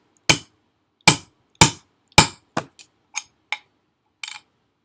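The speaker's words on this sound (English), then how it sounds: "I take this thing that has a hole on the end and place it over that and hammer" Sharp metallic hammer taps on an eyelet setting tool, about nine strikes on a hard surface, steady at first then lighter and quicker toward the end, close and alone.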